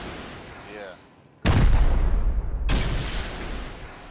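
Rocket volleys from the MLRS launcher in the video game Rust: two abrupt, loud broadband blasts, each followed by a sustained roaring rumble that carries on to the end.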